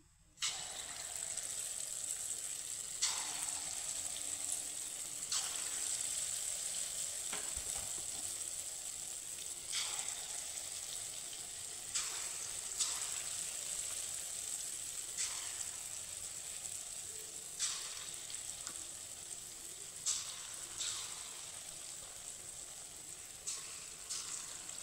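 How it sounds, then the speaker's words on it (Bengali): Mung dal bora fritters fry in hot oil with a steady, fairly quiet sizzling hiss, broken by recurring sharper crackles and spits as pieces are added or turned, heard close with no talking. "এইভাবে এই বড়াগুলো আমি ভেজে নিচ্ছি।"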